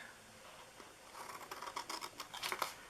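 Scissors cut paper for a gift box in a quick run of faint, close snips and rustles that build up over the second half, no talking.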